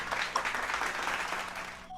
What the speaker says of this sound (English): let's have a round of applause for our expert, Ms. Megumi.